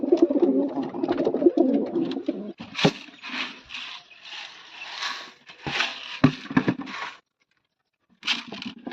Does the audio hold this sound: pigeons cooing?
yes